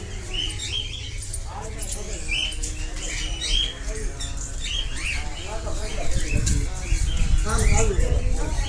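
A bird squawks repeatedly in short harsh bursts at close range, mixed with chirps and wing flutters, while people talk nearby throughout.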